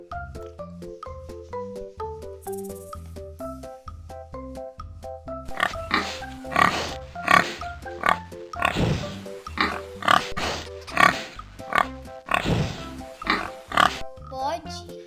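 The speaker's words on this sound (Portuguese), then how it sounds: "Porco." Several loud, close pig grunts and oinks come in rhythmic bursts on a farm, over cheerful background music. They start after a stretch where only the music plays.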